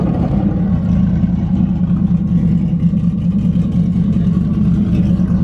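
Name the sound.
Twin turbo Mustang car engine revving on first ride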